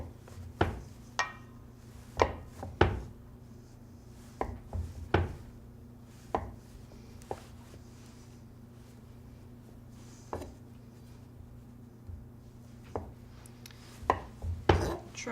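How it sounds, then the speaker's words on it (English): A knife cuts chilled, firm chocolate ganache into uniform portions on a board, giving sharp separate chops at irregular intervals over a steady low hum. There is no talk. "We're going to actually cut out uniform portions of chocolates to dip."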